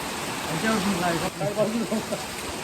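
Steady monsoon rain falling in Konkan with a constant hiss, a person talking briefly over it.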